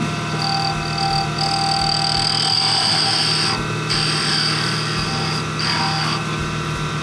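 A skew chisel cuts the tenon of a wooden newel post for a staircase as the lathe runs, giving a steady motor hum with a continuous scraping, hissing cut that swells and eases a few times.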